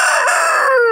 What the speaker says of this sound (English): The two roosters are talking